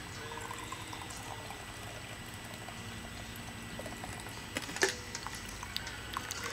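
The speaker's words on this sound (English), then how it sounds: "Pour my cup here." Coffee pours into a cup in a steady, soft liquid stream close by, fairly quiet over a low background hiss, with a small clink near the end and no talk.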